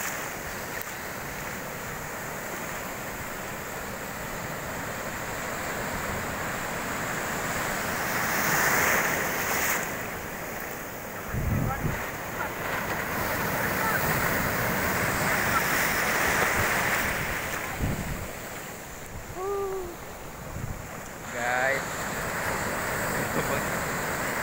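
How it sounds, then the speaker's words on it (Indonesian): Ocean waves roll and break on a beach in a continuous broad wash, swelling and easing, with wind buffeting the microphone and brief voices in the background. "Ini di Pantai Aulia, gelombangnya"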